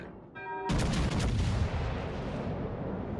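Naval guns firing shells in a warship video game, a sudden massive boom that rolls into a long, loud rumbling tail after a short electronic tone.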